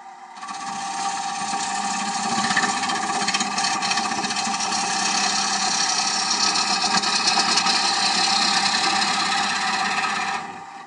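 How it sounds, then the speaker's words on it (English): A traditional-grind bowl gouge cutting the inside of a wooden bowl on a spinning lathe makes a loud, continuous whirring, rasping hum that stays steady for about ten seconds before fading out. "most of that cut is done with the gouge pretty much horizontal"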